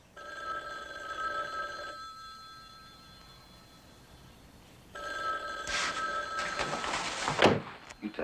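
An old-style telephone bell rings in a room, two bursts of ringing separated by a quiet gap, fairly close and moderately loud, followed by a bump or rattle near the end with no talk.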